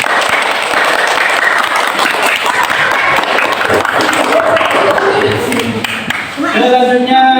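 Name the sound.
applause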